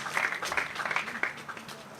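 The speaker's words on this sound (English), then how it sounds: "Give a round of applause for providing the toolbox," An audience applauds at a graduation ceremony for prison inmates trained in skills at a training centre, producing a short burst of dense, overlapping handclaps at moderate level.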